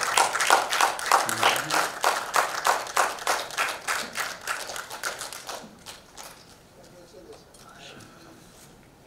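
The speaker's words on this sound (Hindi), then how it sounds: "जोरदार तालियों से उत्साहवर्धन कीजिए" Loud applause from an audience at an awards event, dense clapping that fades after about six seconds into quieter crowd murmur.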